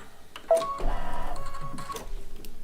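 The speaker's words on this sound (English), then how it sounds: "once I press that, it will start stitching out" An embroidery machine stitches out a placement stitch, starting with a short beep and then running in a steady mechanical whirring and rapid needle chatter, close and moderately loud.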